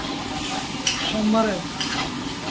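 Soaked spice water goes into a pot of Kerala sambar and is stirred, a close sizzling hiss with scraping spoon strokes and a brief voice partway through.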